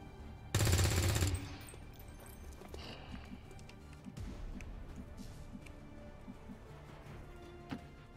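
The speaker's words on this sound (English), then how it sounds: "So in that case, I'm just gonna shoot him." A soldier's gunfire in the XCOM 2 War of the Chosen video game: a loud, dense burst of shots lasting under a second, then quieter game ambience with faint clicks and footsteps.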